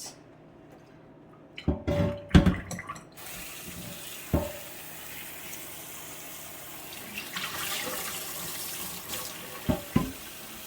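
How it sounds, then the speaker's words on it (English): Tap water runs into an old cast iron pan as it is rinsed out, a steady hiss of flowing water broken by a few sharp clanks and knocks of the pan being handled in the sink. "we're going to give this a quick rinse out"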